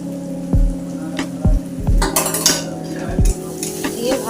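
Tomato with cumin, coriander powder and turmeric being stirred and sautéed in a pan, with loud spoon-against-pan knocks every second or so over a low steady sizzle.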